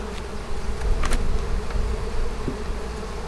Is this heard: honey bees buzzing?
yes